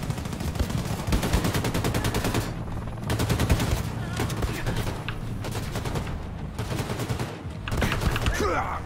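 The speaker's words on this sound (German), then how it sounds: "Von wo aus werde ich beschossen?" Sustained automatic gunfire in Wolfenstein 2: The New Colossus, dense rapid bursts from close range with brief gaps, loud throughout with a voice faintly underneath.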